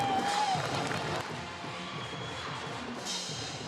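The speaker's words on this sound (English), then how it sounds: "Terrific crowds on hand for the Class A State Championship." Large crowd at the Class A state volleyball championship, Omaha Marian against North Platte, keeps up a steady, dense roar of cheering and chatter throughout, a bit louder at first and swelling again near the end.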